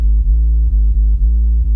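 A deep sub bass holds one steady note, pulsing softly with slight dips in a regular rhythm, loud and alone.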